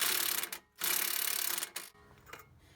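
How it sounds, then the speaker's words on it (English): A socket wrench with a 21mm socket works loose the nuts on a passenger CV axle of a Dodge Grand Caravan, giving two bursts of close, broadband mechanical rasping with brief pauses between them. "We're going to use a 21mm socket and a 21mm on the back."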